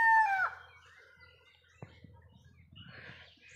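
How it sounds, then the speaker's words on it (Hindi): A rooster perched in a litchi tree lets out one loud, close crow at the start, then low rustling and faint background noise follow. "लीची पेड़ में मेरा मुर्गा बैठा है, वो पुकार रहा है, देखिए सुनाई दिया ना।"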